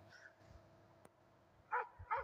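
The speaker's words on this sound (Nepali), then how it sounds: "कुकुर कराउँदैछ फेरि हो। भुक्दैछ" A dog barks a few times at a distance, in short faint yips and woofs, with a couple of louder barks near the end.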